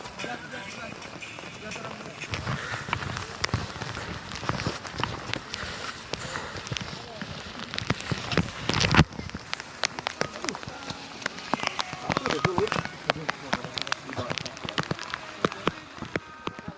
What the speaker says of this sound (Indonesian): Dan hujannya sumpah nggak berhenti-berhenti.